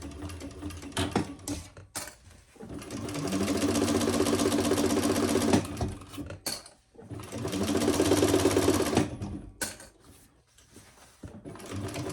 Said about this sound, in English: Sew across the bottom at the normal seam allowance.